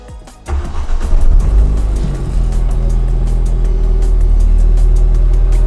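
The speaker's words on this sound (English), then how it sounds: "It's ready to start up for the first time now after fitting a new turbo." A Ford Fiesta ST180 fitted with a new hybrid turbo cranks and fires up, then settles into a loud, steady idle with a deep rumble and a brief rise in revs just after starting.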